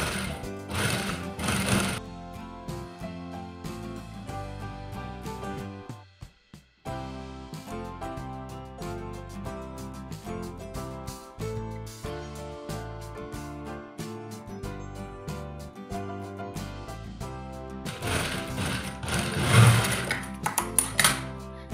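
A domestic sewing machine stitches piping onto an apple-cut round-hem dress, running in steady rapid bursts with brief pauses, loudest at the start and end of the stretch.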